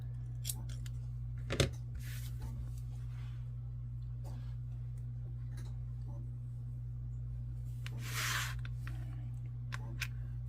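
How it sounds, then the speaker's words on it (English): Scissors cut knitting yarn in a few quick, faint snips, one sharper cut standing out, over a steady low electrical hum in a quiet room. "then I'll cut my string to a manageable piece"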